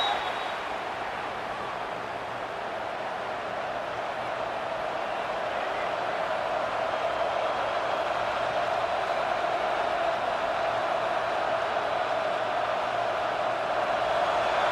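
Stadium crowd at an Alabama vs Auburn college football game, a steady, dense roar sustained throughout without letting up, with a play-by-play commentator's voice running over it.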